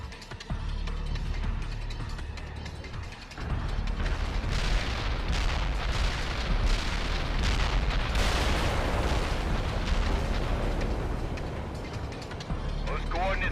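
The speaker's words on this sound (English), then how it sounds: "Artillery barrage inbound." Artillery shells crash down in a rumbling barrage in the strategy video game World in Conflict, with sustained explosions and debris building over several seconds beneath a radio voice.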